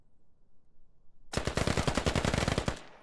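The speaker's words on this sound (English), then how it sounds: "Compton gets shot from a window." A rapid burst of video-game gunfire as a soldier is shot from a window in a building-to-building fight: a sudden loud automatic volley of sharp, evenly spaced cracks lasting about a second and a half, then abruptly stopping.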